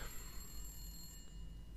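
A telephone rings in the background with a thin, steady, high electronic trill that persists throughout, faint and somewhat distant, with no speech over it.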